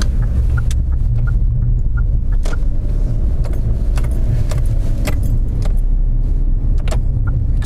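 A car drives steadily and turns right onto Nakagawa Street in Kitakyushu, with a constant low road rumble and faint jingling clicks from inside the cabin.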